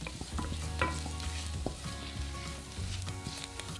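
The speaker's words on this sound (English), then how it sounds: "Heat through while stirring for a further minute." Cumin, cardamom pods, cloves, turmeric and bay leaves sizzling in hot oil in a pan, a dense crackling hiss with clacks and scrapes of a utensil stirring throughout, close and continuous.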